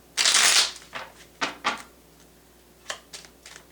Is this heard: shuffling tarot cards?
yes